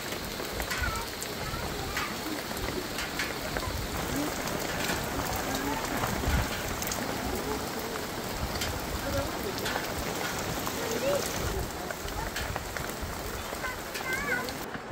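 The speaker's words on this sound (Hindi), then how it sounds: "बारिश खूब तेज हो गई है अभी" Heavy rain pours steadily over a mountain village home, a dense, unbroken hiss that stays loud and even from start to finish.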